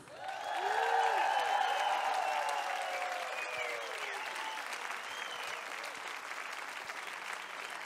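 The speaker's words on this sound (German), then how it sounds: "werde ich auch einen riesigen, monströsen Applaus für die unglaublich tolle Band" Open-air concert crowd applauding the band, a broad, sustained roar of clapping with cheers and whistles rising over it early on, then easing slightly but staying loud.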